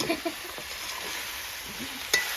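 Pork frying with mustard greens in a pan sizzles steadily up close, broken by a few soft scraping stirs and a sharp clatter near the end.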